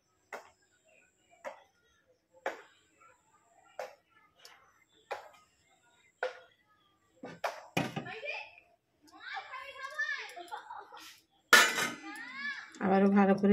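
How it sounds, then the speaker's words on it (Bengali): Chit pitha batter beaten in a bowl with a utensil, sharp clinking strokes repeating about once a second, then faster scraping and clattering near the end. "10 মিনিট ফাটিয়ে নেব এভাবে।"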